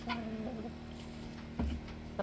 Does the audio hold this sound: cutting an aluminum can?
no